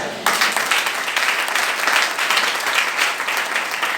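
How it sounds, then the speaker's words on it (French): A church congregation breaks into loud, sustained applause during a worship service, steady dense clapping filling the space without a break after a brief quiet start. "Acclamons."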